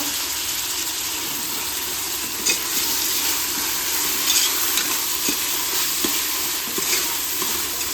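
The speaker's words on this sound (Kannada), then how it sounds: "ಈಗ ಟೊಮೊಟೊ ಹಾಕ್ತಾ ಇದ್ದೀನಿ" Tomatoes fry in a pan for chicken biryani cooked in a pressure cooker, giving a constant bright sizzle with scattered light scraping taps from stirring.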